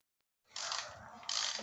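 A ratchet wrench tightens plenum bolts on an engine during a throttle body and plenum spacer install, crushing the gasket; two close, rapid runs of dense metallic clicking follow a moment of quiet.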